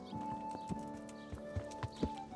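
Horse hooves clip-clop on the ground in Kingdom Come: Deliverance as the rider dismounts, with several uneven thuds against a steady low game ambience and a faint sustained tone.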